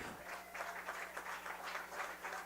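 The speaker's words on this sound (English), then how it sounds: "A roar of applause from the crowd here at Historic Kicks" Crowd applause at an evening baseball game at Historic Hicks Field, Edenton Steamers versus Greenbrier Knights, a steady distant patter of clapping spread across the stands, faint and even throughout.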